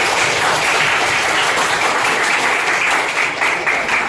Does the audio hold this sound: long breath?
no